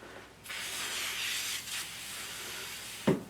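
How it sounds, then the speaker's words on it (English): Heavy spraying of starch onto fabric for a small sewn wallet, two long hissing bursts from a spray bottle with a brief gap between, ending in a sharp knock, close and with no talk. "I'm just going to spray it really heavily."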